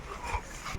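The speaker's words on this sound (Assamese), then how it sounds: "কুকুৰ এটা" A dog at a resort in Jorhat gives a brief, soft vocal sound, close by and over a faint background.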